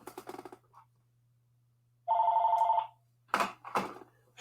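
A telephone rings once, a loud electronic trill lasting under a second, with short bursts of nearby sound before and after it and a steady low hum underneath.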